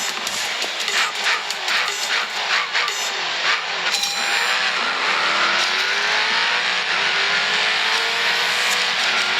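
A car engine revs hard in a racing video game, loud and continuous, pitch climbing and shifting with rapid bursts early on before settling into a sustained high whine.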